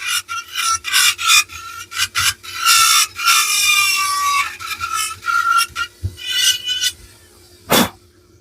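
Dremel rotary tool with a burr carving a tree into wood, rasping bursts of grinding that start and stop repeatedly, close and loud with no talking.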